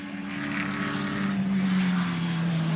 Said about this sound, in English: Remember, this car runs a Chev-based engine. It sounds the part.